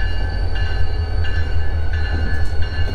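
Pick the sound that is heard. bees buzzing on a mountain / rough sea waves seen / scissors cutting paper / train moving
train moving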